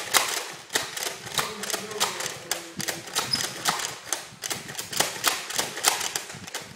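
Alpha Trooper CS-18 toy blaster firing from its drum magazine, a rapid series of sharp clacking shots in quick bursts with brief pauses, loud and close.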